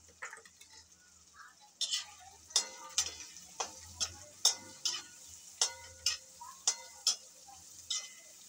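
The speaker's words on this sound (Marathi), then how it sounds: "हे असे आपण कारले टाकले का त्यांना थोडंसं तेलामध्ये थोडंसं फ्राय होऊन घेऊ।" Bitter gourd pieces frying in a little oil in a home kitchen pan, with a soft sizzle under a series of sharp, regularly spaced clicks and scrapes of stirring, close and moderately loud, with no talk.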